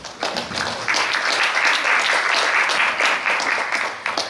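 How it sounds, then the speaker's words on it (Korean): Steady audience applause fills a hall at a Korean cloud and SaaS forum as a speaker is welcomed to the stage, a continuous wash of many hands clapping at an even level without any talking. "여러분 박수로 환영해 주시기 바랍니다."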